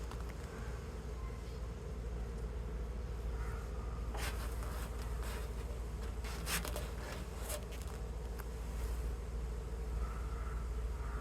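Honeybees buzz steadily throughout a beehive inspection, a dense close hum from many insects with brief rustling and handling noises over it.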